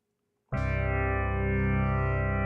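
A sustained synth note from the Tera Pro FM synthesizer app on iOS with chorus applied, starting abruptly after a short silence and holding loud and rich with a shimmering, slightly wavering tone.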